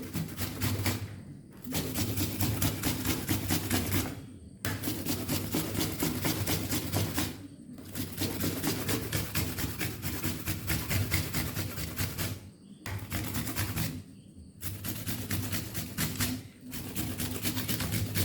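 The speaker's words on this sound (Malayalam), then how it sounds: "സവാള ഇതുപോലെ ഗ്രേറ്റ് ചെയ്തെടുക്കാം പെട്ടെന്ന് തന്നെ ഗ്രേറ്റ് ചെയ്തെടുക്കാൻ പറ്റും" An onion is grated by hand in quick, rhythmic scraping strokes that run in long close bursts, broken by several brief pauses.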